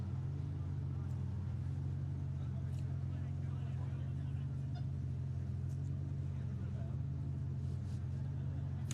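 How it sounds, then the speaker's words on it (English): Drift cars at a UK drift championship event in Teesside sit running, their engines forming a steady, loud, low rumble that fills the whole stretch without a break. "I'm just waiting for the cars to be turned off"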